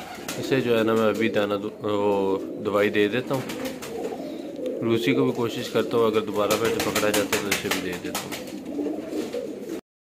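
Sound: pigeons cooing

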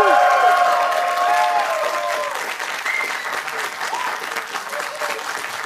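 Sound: studio audience applause for a TV show

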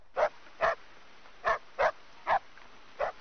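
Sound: dog barking

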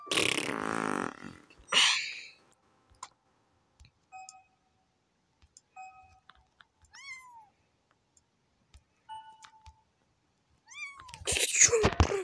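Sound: cat meowing in the video game Cats are Liquid

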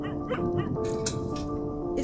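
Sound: dog whimpering in the video game Where The Heart Leads

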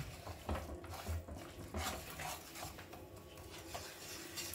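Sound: mixing spices and crushed kasuri methi for dum aloo

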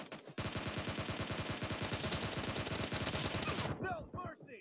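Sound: gunfire in PUBG Lite team deathmatch video game

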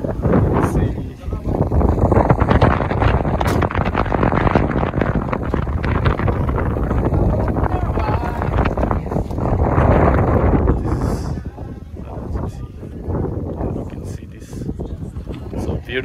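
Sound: wind

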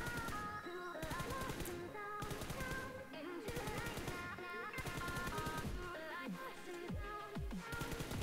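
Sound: M4 rifle burst fire in a shooter video game

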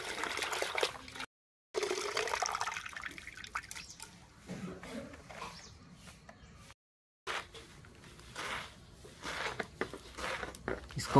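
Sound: washing bottle gourd leaves in water

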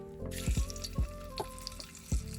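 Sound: pork fat (salo) frying in a heated cauldron with oil

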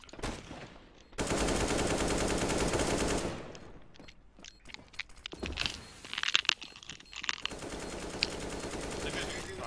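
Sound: gunfire in Counter-Strike video game on Train map

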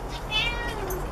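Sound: cat meowing

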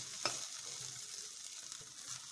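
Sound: stirring onion, garlic and ginger frying in a pan

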